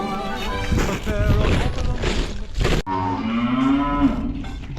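Cattle on a farm in winter after an ice storm, lowing in several long, loud moos close by, one after another with a short break between calls.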